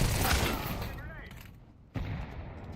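A grenade detonating in Counter-Strike 2 during a matchmaking round, a loud burst amid busy game noise and voice chat, then a sharp renewed blast of sound near the end.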